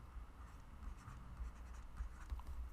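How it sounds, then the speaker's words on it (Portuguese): Faint, brief scratching of writing on a board during a plane geometry lesson on similar triangles, quiet and close, without talk. "Vamos escrever isso."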